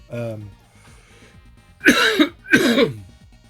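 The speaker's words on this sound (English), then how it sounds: "I'm very sick, so that's why I'm coughing so much." Two harsh coughs, close and loud, come in quick succession after a brief vocal sound, with quiet background between.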